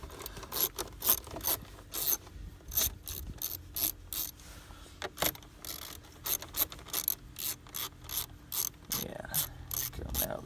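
A hand ratchet loosens 8mm bolts on a Ford Focus ST intake, giving repeated bursts of sharp, rapid clicking in an uneven rhythm, close and alone.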